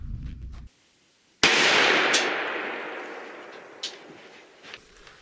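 A Remington 870 youth 20 gauge shotgun loaded with Federal #9 TSS fires a single sharp, loud blast outdoors, its report decaying slowly over several seconds with faint echoes after.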